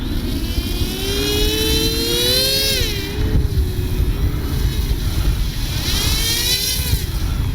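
Engines on an Avios PBY Catalina RC flying boat run up at throttle, a loud close whine that rises and falls in pitch as the motors spool, with no talking.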